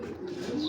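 A racing pigeon gives a brief, soft coo at close range, a short low murmur lasting under a second with faint background noise.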